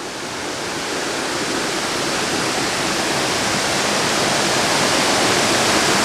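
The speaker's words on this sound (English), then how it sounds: "Very nice waterfall." Waterfall in the North Carolina Highlands, a steady, dense roar of falling water close by that grows slightly louder and holds without a break, no voices over it.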